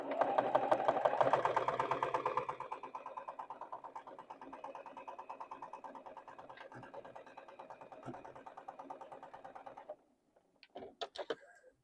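A sewing machine stitches the last seam of a quilt block, loud and fast at first, then settling into a steady, quieter run for several seconds before stopping, followed by a few soft handling clicks.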